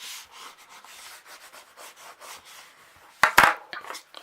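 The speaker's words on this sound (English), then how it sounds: "Give that a really good burnish." Burnishing tool rubbed firmly over paper and tape on a handmade mini album, a steady soft scraping for a few seconds that ends in two louder, sharper rubbing strokes close up.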